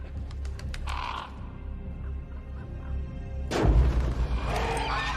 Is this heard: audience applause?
no